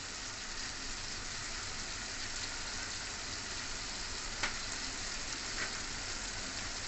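Tomato masala with chilli powder being stirred in a pan gives a steady close sizzle and hiss throughout, with an occasional faint scrape of the spoon.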